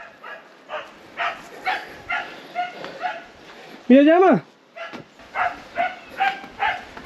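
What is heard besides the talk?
dog barking and whimpering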